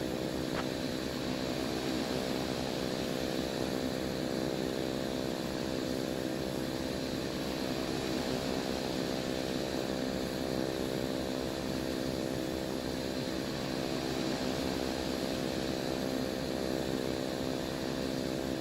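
A simulated Cessna Caravan turboprop drones steadily while taxiing in Microsoft Flight Simulator 2024 in Papua New Guinea, a constant buzzing engine hum with no voices.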